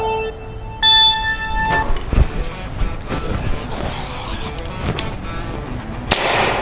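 Several loud, sharp gunshots crack at irregular intervals during shooting practice at a tactical range in Surabaya, with a brief electronic tone at the start and a burst of noise near the end.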